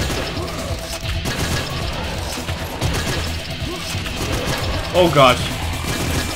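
A gun fires in the video game Painkiller amid a busy, mechanical clatter of rapid shots and crashing impacts, with a person talking and exclaiming over the gameplay.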